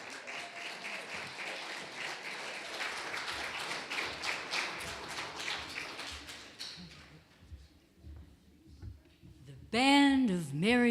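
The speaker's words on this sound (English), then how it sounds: "Let's give them a big round of applause." Audience applause for a live quartet performance rises as scattered claps for several seconds, then thins out and fades; a voice speaks briefly near the end.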